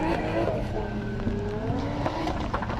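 A drift race car's engine wailing at high revs while its tyres slide and squeal, continuous and dense throughout.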